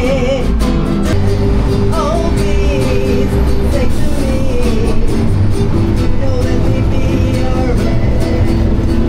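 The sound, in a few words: live music played on a bus in Mexico City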